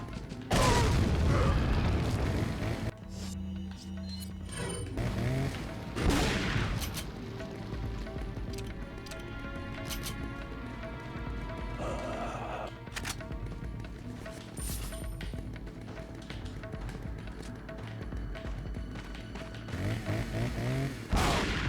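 Gunfire and booming impacts in the Resident Evil 4 video game, a loud dense mix of repeated shots and blasts over continuous game sound, strongest at the start and end.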